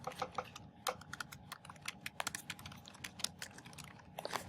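Quick, irregular clicking of keys on a computer keyboard as a question is typed, close and fairly quiet, with uneven bursts and short pauses.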